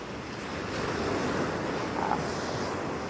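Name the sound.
ocean waves at the beach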